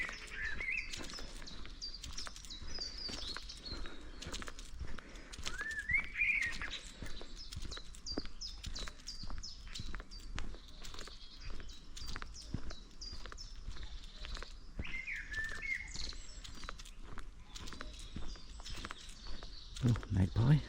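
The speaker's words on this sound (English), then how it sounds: "Oh, magpie." A magpie gives several bursts of harsh chattering calls at a fen nature reserve in Suffolk, moderately close, over steady footsteps along a walking path.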